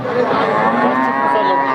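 A two-toothed deshi dairy cow at a cattle market in Chougachha gives one loud, sustained, close moo, with faint crowd chatter beneath it.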